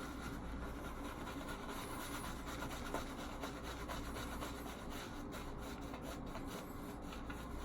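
A shaving brush works up lather from coffee-and-honey scented Phoenix Shaving Planet Java soap, giving a continuous close, soft wet rubbing and swishing that stays quiet and even throughout.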